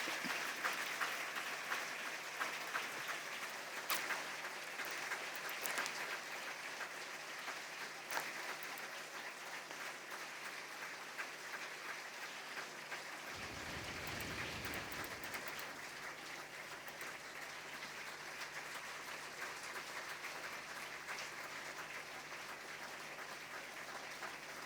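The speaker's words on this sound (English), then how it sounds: "This round of applause will carry him to" A symposium audience applauds steadily for a long stretch, a dense, even wash of many hands clapping at a moderate distance in a hall, with no talk over it.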